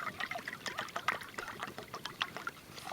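Two cups of water are poured into a pot of quinoa while cooking outdoors at a campfire, a soft, steady trickle and splash lasting a few seconds with no talk.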